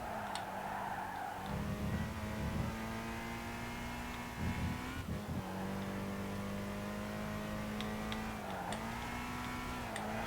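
A Camaro race car engine in a racing video game drones steadily at high revs, dipping and climbing as gears shift over about ten seconds, with faint tire noise and no talking.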